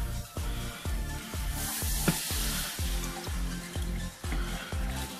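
Rhythmic stirring of a vegan Alfredo sauce in a pan as milk is slowly poured in, a steady sizzling wash broken by regular scraping strokes about every half second, close and moderately loud, with no talking.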